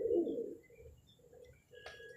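A golden pigeon perched above a drain gives a soft, low coo close by, followed by fainter murmurs and a brief higher chirp near the end.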